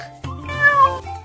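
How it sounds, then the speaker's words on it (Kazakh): A cat lets out a single clear meow, close and loud, rising then falling over about a second against quiet surroundings. "Мысық."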